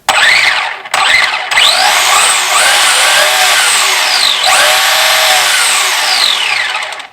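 A brushless motor upgraded into a Traxxas Rally ST RC car whines loudly and close up, spooling up and down in high-pitched sweeping bursts with a brief cut near the start, held steady for about seven seconds.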